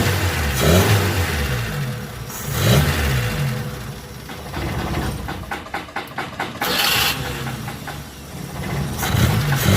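A Toyota T120 car engine, running again after its ignition coil was replaced, revs up and settles in repeated waves, with a rough ticking patch midway; the sound is loud and close, and nobody speaks over it.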